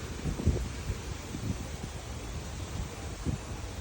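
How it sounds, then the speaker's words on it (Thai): Strong wind buffets the microphone in uneven rumbling gusts, with a rushing hiss underneath and no voices. "ลมแรงมากมาก"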